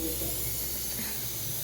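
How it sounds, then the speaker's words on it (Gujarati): A pressure cooker on a kitchen stove, boiling potatoes, releases steam with a steady, continuous hiss that holds at an even level for the whole stretch, with no talk. "અહીંયા કુકરમાં સીટી થાય."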